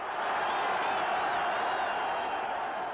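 São Paulo football supporters in a stadium roaring in celebration after a win, a dense, sustained crowd cheer heard from a distance with no pauses.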